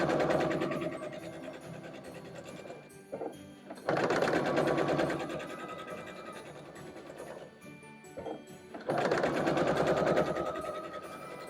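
A sewing machine joins quilt block pieces in three bursts of rapid, buzzing stitching, separated by short pauses, close and moderately loud.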